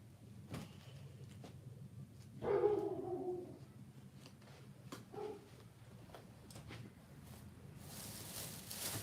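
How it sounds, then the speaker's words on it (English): A dog barks somewhere at a distance, one fairly clear burst of barking followed by a fainter bark a little later, over a quiet room with scattered taps and clicks and no voices. "My dog started barking."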